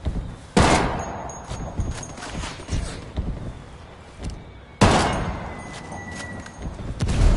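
Suppressing fire from a sniper rifle in Ghost Recon Wildlands, loud sharp shots, one early and one later, each trailing into rumbling echo amid scattered softer distant gunfire.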